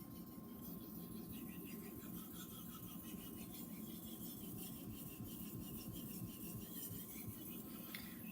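Kitchen knife sharpened on a Japanese natural whetstone: a continuous, faint, gritty rasping of steel stroking over stone, even and unbroken with a low hum beneath, no talking.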